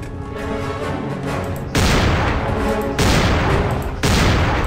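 Three loud, abrupt gunshots blast out in a Halloween fan video game, spaced about a second apart, each a sharp broadband crack that sustains before the next.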